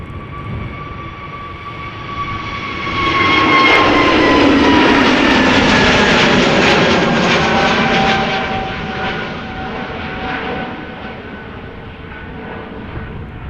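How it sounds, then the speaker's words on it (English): EasyJet Airbus A319 jet taking off at Amsterdam Schiphol Airport, a loud sustained engine roar that swells over several seconds with whining tones, peaks mid-clip, then slowly fades as the aircraft climbs away. "More EasyJet following. Most likely the A319 to Manchester."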